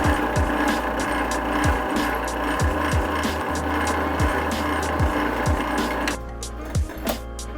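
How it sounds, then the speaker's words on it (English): Power drill boring a pinhole through a knife handle with a 1/8 bit, a steady workshop whir with repeated short gritty bursts as the bit bites, easing off near the end. "Switching over to a 1/8 drill bit."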